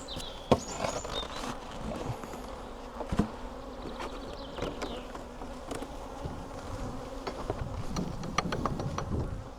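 Honeybees buzz around an open, weak hive, a dense continuous drone with individual bees zipping close past, plus occasional knocks and clicks from handling the hive.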